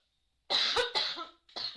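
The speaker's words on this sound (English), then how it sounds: "I can feel a cough coming on" Several harsh, close coughs in quick succession, a burst of two then a third after a short pause.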